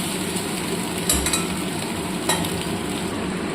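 Egg frying with potato in a pan sizzles continuously at close range, broken by two brief stirring scrapes, with no voices.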